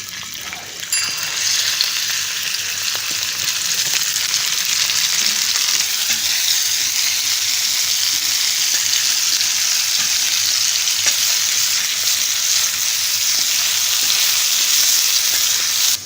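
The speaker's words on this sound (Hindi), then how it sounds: "सबसे पहले एक तवे में कुकिंग ऑयल डालकर गर्म कर लेंगे और ऐड करेंगे हमारा क्यूब्स की हुआ चिकन" Cubed chicken sizzling steadily in hot cooking oil on a tawa, a loud, dense, continuous frying hiss that holds evenly throughout with no talking over it.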